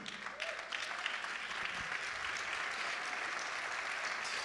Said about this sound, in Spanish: para darle un aplauso al Señor no necesitamos motivos